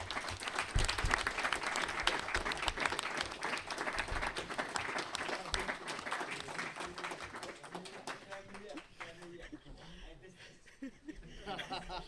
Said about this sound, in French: j'aimerais bien qu'on les applaudisse